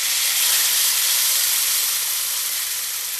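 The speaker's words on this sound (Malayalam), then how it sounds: "കടുക് പൊട്ടിയതിന് ശേഷം കുറച്ച് കറിവേപ്പിലയും കൂടി ഇട്ടിട്ട് നേരത്തെ അരച്ച് വെച്ച ആ ഒരു തക്കാളിൻ്റെ മിക്സ് മുഴുവനായിട്ട് ഇതിലേക്ക് ഒഴിച്ചു കൊടുക്കുക." A ground tomato mix sizzles and hisses loudly in hot coconut oil with popped mustard seeds and curry leaves for a tomato chutney, a steady bright frying roar with no voices.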